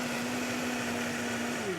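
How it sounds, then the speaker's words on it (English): Blender pureeing gazpacho, a constant loud motor whine with a steady pitch that shifts slightly near the end, running alone without talk. "how long you can leave it there in the blender. Just until it's really pureed"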